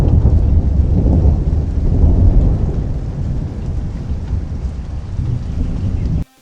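Thunderstorm with rain from a zombie roguelike game: a loud, heavy rumble of thunder and dense rainfall roars continuously, easing slightly before cutting off abruptly at the end.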